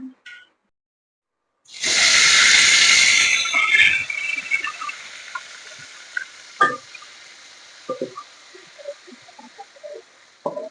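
Spices hit hot oil for tempering a stuffed spiny gourd (kantola) dish: a sudden loud hissing burst after near silence, easing over several seconds into scattered pops and crackles close by.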